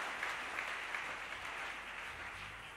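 Church congregation at an evening praise and worship gathering in Kinshasa applauding together, a steady dense wash of clapping sustained throughout at moderate distance.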